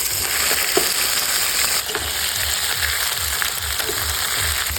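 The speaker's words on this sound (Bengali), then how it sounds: "তেল গরম হয়ে গেছে তো এবার দিয়ে দিচ্ছি পেঁয়াজ কুচি দিয়ে দিচ্ছি পেঁয়াজ বাটা রসুন বাটা আদা বাটা জিরা বাটা" Chopped onion with onion, garlic, ginger and cumin pastes frying in hot oil, a loud, continuous sizzle close by, punctuated by the scrape and stir of a spoon, no talking.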